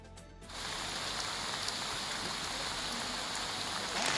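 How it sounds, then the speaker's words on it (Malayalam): Floodwater surging after heavy monsoon rain in Kerala, a dense, steady broadband rush of water that swells in after a brief quieter start and stays loud and continuous with no voices. "വലിയ ശക്തമായ രീതിയിൽ മഴ പെയ്തതിൻ്റെ ഭാഗമായിട്ട് മഴവെള്ള പാച്ചിലുണ്ടായിട്ടുണ്ട്"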